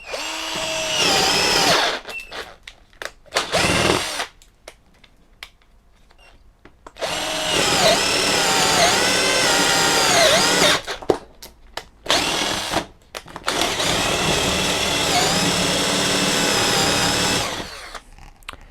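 A Topshak TS-ED1 percussion drill fitted with a large bit, run at low speed: a loud, close whirring drone with a rising and falling pitch, in several long bursts broken by short stops and brief stutters.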